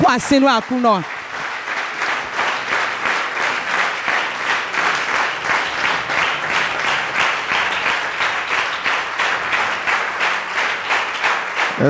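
A church congregation at a Sunday service applauds in a loud, sustained wave of clapping with a rhythmic pulse. A voice calls out briefly at the start.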